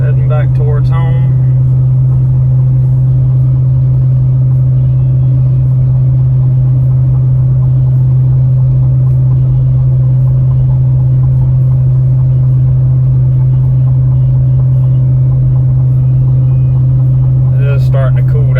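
A 2020 Ford F250 with the 7.3 gas engine cruises on the highway, giving a loud, steady cabin rumble with a constant low drone throughout and no talking.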